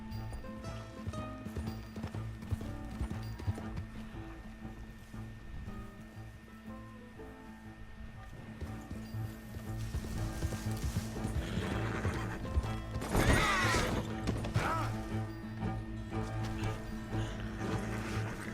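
Horse hooves clip-clop steadily beneath a swelling musical score in Red Dead Redemption 2, with a horse whinnying partway through; busy, layered game audio with a wash like surf.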